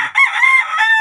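A fighting cock, one of a pair of gamecocks kept for derby matches in Cabanatuan, Nueva Ecija, crows once in a loud, close, drawn-out call that rises and holds steady before trailing off, with no talk over it.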